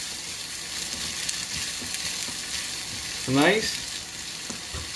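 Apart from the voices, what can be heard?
beetroot puree cooking and sizzling in pan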